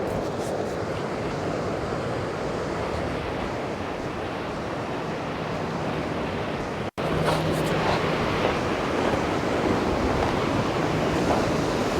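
Rough, choppy ocean surf washes steadily at a shoreline fishing spot, a continuous broad rushing roar mixed with wind buffeting the microphone, briefly cutting out midway before resuming.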